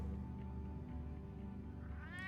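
A cat meows in the Batman: The Telltale Series video game, a single clear cry rising in pitch at the end over a steady, loud musical and ambient game background.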